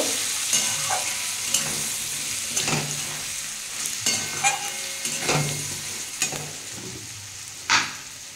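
Cumin, chili and turmeric powder sizzle in hot oil as a spoon stirs them, giving a continuous close fry with repeated scraping and tapping against the pan.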